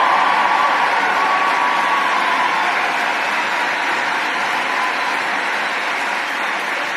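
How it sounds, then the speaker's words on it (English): A large crowd gives a standing ovation, a dense, sustained wash of clapping that holds at an even loudness from start to finish, with no distinct voices rising above it. "standing ovation"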